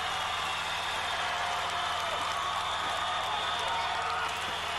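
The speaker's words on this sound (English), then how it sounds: "The crowd love it." A TV studio audience at Gladiators roars and cheers in a steady, dense wash of crowd noise that holds at an even level throughout with no clear breaks.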